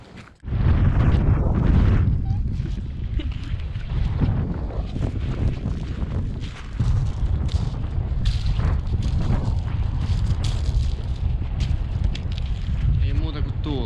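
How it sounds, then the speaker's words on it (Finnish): Strong wind on a coastal meadow at Halias, Finland, buffets the microphone in continuous gusty roars, loud and close, with a voice faintly audible under the noise. "Ei muuta kuin tuulta."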